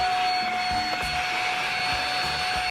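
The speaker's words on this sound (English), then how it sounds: "So now I'm just gonna vacuum everything up." Vacuum cleaner running steadily at close range inside a Subaru Forester XT, a loud whining drone with a high steady tone and faint bumps as the nozzle moves, then cutting off sharply at the end.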